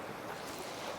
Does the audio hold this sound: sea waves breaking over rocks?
yes